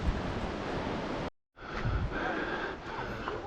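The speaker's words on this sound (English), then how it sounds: "And the water is gushing." Rushing water gushing beside the Half Dome trail in Yosemite, a broad steady roar that cuts out briefly for a moment, then resumes.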